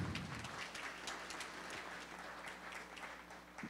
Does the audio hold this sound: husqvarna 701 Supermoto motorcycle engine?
no